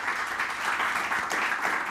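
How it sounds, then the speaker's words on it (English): Brief burst of audience applause at a digital marketing agency growth show, a dense crowd clapping that swells slightly and holds steady for under two seconds. "Guys, round of applause."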